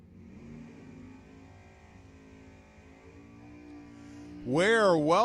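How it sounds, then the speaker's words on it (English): Drag racing Camaro and Mustang at Lebanon Valley Dragway, heard as a steady engine drone under a commentator's voice, then a loud burst of revving engines near the end as the cars launch. "Camaro versus Mustang."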